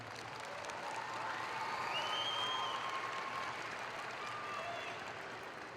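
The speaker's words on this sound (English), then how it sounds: "please give your families and the people who cultivated and supported you a big round of applause" A graduation audience at Northwest High School applauds families and supporters with sustained, even clapping. The applause is heard from a distance and fills the hall.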